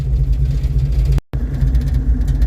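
Carbureted Ford Mustang engine idling after running about an hour in hot sun, a loud, steady low rumble with a brief dropout midway.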